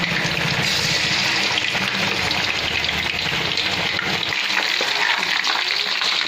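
Fish frying at home in clean groundnut oil gives a loud, continuous sizzle with a bubbling, hissing texture, steady throughout with occasional stirring movement.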